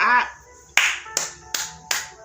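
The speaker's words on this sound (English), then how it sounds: "Round of applause" Sharp hand claps from a person reacting while watching an action film, four crisp claps at a steady rhythm close to the microphone, following a moment of speech at the start.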